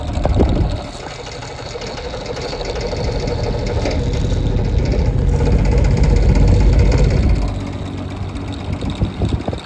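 A vintage Kmart, Evenflow or Manning Bowman box fan runs on high speed, a steady, loud whooshing drone with low rumble that swells as it spins up and then settles, heard close with no talk.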